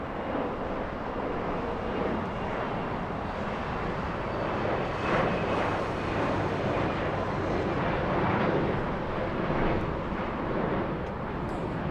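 A Pacific Southwest Airlines airliner at Los Angeles LAX airport makes a broad, continuous jet roar that holds steady and fairly distant throughout, with no talk over it.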